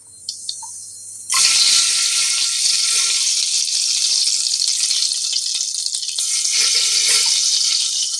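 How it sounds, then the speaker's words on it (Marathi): Mustard seeds, cumin and whole spices hit hot oil with a sudden loud, steady sizzle that starts after a brief quiet moment and keeps crackling close up without any talk. "तेल चांगलं गरम झालं की त्यामध्ये थोडीशी मोहरी, जिरं, हा आपला खडा मसाला,"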